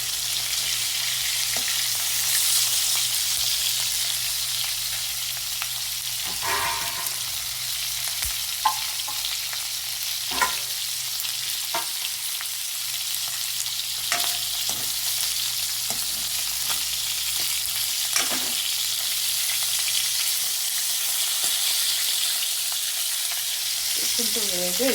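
Salted fish pieces sizzle and fry steadily in a pan, a continuous bright crackle with occasional sharper pops and utensil clicks, close and fairly loud, no talking.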